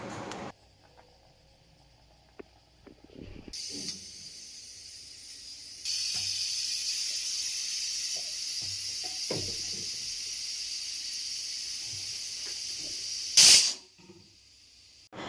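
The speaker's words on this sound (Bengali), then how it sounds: "আর আমি এটা দেখো প্রথমেই প্রেসার কুকারে সেদ্ধ করে নেব" A pressure cooker boiling soaked dried peas in water with a little turmeric lets out a long, steady steam hiss, preceded by quiet clatter and ending in a brief louder burst, with no talking.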